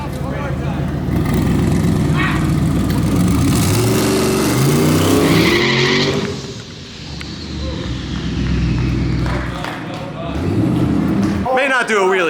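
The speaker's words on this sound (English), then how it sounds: "this thing is gonna run an 8-second quarter-mile pass or whatever" A 1927 twin-turbo LS T-Bucket rat rod roars hard down a quarter-mile drag strip. The engine note is loud and climbs steadily, dips briefly as it changes, then surges again, with crowd noise and voices mixed underneath.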